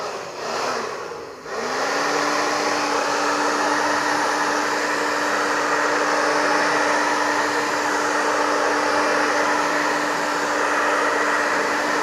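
A hair dryer blows steadily to dry screen-printed ink on an umbrella, its loud whirring rising as it starts up, then holding an even airy roar with a constant hum, close to the microphone and without speech.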